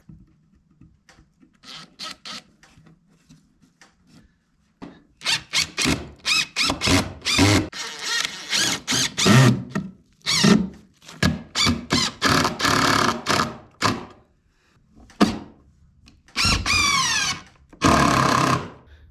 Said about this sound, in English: now I've got the 2x4 screwed on there, and I don't know if you could tell, but my drill battery is about dead.